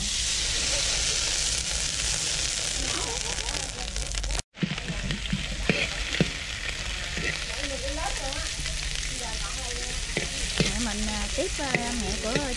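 Bánh xèo filling of shrimp, mushrooms and boiled snails cooking in a hot pan, with a continuous sizzle and stirring scrapes, one abrupt cut partway, and a voice talking over the later part.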